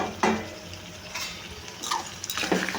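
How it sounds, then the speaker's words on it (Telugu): Cooked mutton head meat is scraped into a pot of cooked tomatoes, giving a few soft wet plops and utensil scrapes against the pot close up over a faint low hiss. "ఈ కూరను అయితే ఇందులో వేసేసుకుంటున్నాను నేను"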